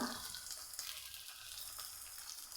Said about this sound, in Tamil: இஞ்சி, வெங்காயம் போட்டு நல்லா வதங்கினதுக்கப்புறமா அடுத்தது கேரட்டு போட்டு